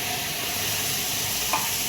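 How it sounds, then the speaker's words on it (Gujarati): Tomato and capsicum gravy poured into hot tempering with asafoetida, giving a steady close hissing sizzle over the whole short stretch, with no talking. "હવે વઘારમાં જઈ રહી છે ગ્રેવી"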